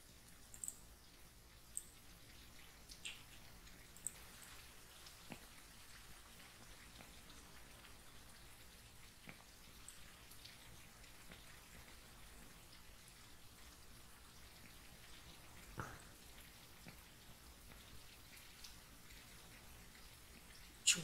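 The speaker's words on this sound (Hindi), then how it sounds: "तभी भी बारिश गिर रही है" Soft, steady rainfall in the game Ranch Simulator patters evenly throughout, with occasional faint clicks and drips standing out slightly; no voices.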